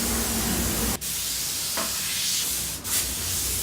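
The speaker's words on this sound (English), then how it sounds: "I can go in there with a finer airbrush and create that detail with the final yellow layer" An airbrush sprays yellow paint to detail freehand flames on a skull design, producing a close, continuous airy hiss that is briefly cut twice, with no voices.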